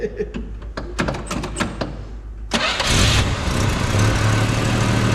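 A 1967 Plymouth four-door's carbureted engine cranks with a series of sharp clicks and whirs, then catches and settles into a steady, rumbling idle close by.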